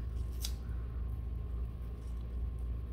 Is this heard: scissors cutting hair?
yes